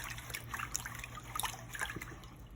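Rice being swirled by hand in water in a bowl while rinsing for a smoky rice pilaf, soft irregular sloshing and trickling close by at low volume.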